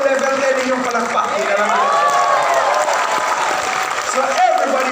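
Audience applause in a hall, a continuous wash of clapping and crowd noise running under a loud voice speaking over it.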